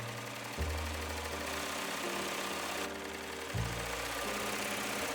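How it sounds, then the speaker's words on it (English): Sewing machine stitching a trouser inseam, a steady mechanical hum running throughout with a brief change in pitch near the start and again past the midpoint. "head back to our sewing machine, sew the entire inseam with the 3/8 of an inch seam allowance"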